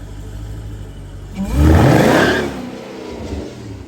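A car on a race track revs hard to spin its tires, a loud roaring surge that rises and fades over a steady low rumble, heard alone without talk.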